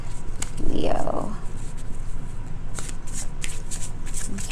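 Tarot cards shuffled by hand during a Leo love reading, a close, continuous papery riffling and rustle with a voice speaking over it.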